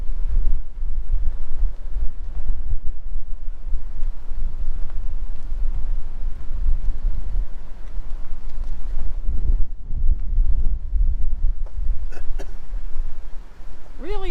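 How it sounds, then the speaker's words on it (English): Strong gale-force wind roars and buffets the microphone continuously at a rocky coastal campground in Tasmania, a heavy low rumble with gusts, and a voice speaks briefly near the end. "It is blowing a gale."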